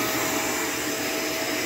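A Shark Navigator vacuum cleaner runs on carpet in carpet mode, a loud steady broadband whoosh and motor whine filling the space, close and continuous with no talking.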